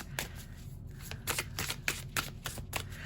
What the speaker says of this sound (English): As I was starting this reading, to shuffle the card or do the cards, which I do like this, right?